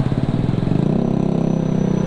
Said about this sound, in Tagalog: Ganda ng tunog ng tambutso ng big bike.